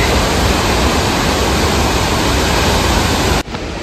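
A river and waterfall in the Swiss mountains roar with steady, loud broadband rushing that fills the whole clip, dropping slightly at the very end, with no voices.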